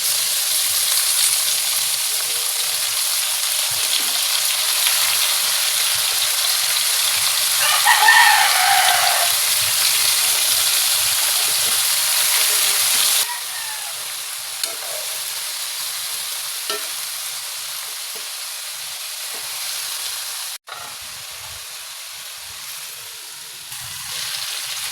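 Kangkong and string beans stir-fried with pork and tofu in a pan, a steady bright sizzle that holds strong and then drops to a quieter frying hiss partway through.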